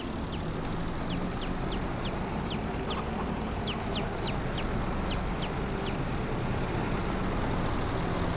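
Chickens in a farm roleplay video game cluck in a quick run of short, repeated calls over a steady background hum, moderately loud and spaced in small bursts.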